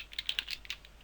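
Rapid, quiet keystrokes on a computer keyboard as code is typed for a Unity 3D game, about half a dozen taps in a quick irregular burst, close and alone.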